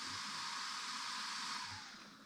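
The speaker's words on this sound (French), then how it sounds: "j'avais oublié que ça faisait pas mal de bruit le ventilo quand même" A ventilation fan, apparently a cooling fan by an RC car build (Sworkz S35 with HMX Performa P1 combo), whirs loudly and steadily in a broad, even rush that eases slightly near the end, with no talk over it.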